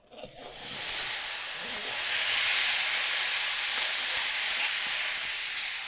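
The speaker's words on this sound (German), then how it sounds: "In die gleiche Pfanne werde ich jetzt die Birnen zubereiten." Pears sizzling in a hot pan while being caramelized for creamy rice pudding, a steady broad hiss of frying that rises quickly and holds loud and even throughout.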